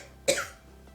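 A single close, harsh imitated cough by a voice mimicking a severe coughing fit, one sharp burst followed by a brief rasping tail, alone in a quiet room.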